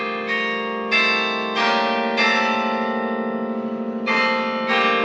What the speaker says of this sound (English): Do you like hearing church bells, cathedral bells?